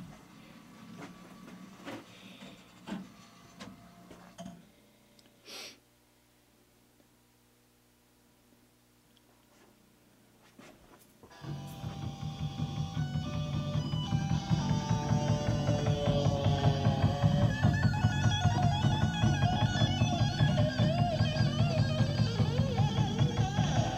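A CD jukebox whirs and clicks through its selection mechanism with a few sharp mechanical knocks, then after a quiet pause music starts and plays on steadily at a moderate level.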